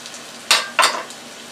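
Hash browns sizzling in a frying pan, two quick bright bursts of frying and scraping as the potatoes are flipped and stirred, close up, over a quiet background hiss.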